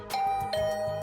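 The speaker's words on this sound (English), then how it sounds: "Not even 10 minutes passed before I heard my doorbell ring." A two-tone electronic doorbell chime in a video game rings, bright and close, with a brief ding followed by a second tone sustaining over faint background music.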